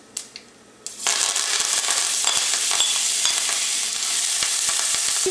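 Crushed shallots, garlic, ginger and curry leaves hit hot coconut oil for a tomato curry, a sudden loud sizzle that keeps crackling steadily, with a few soft clinks and scrapes from stirring.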